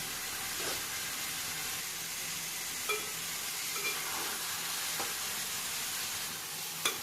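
Marinated chicken coated in turmeric, chili, salt and garam masala sizzles softly in a kadai, a steady faint hiss with a few light clinks of stirring.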